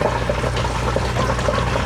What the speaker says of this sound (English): like we're getting some water put in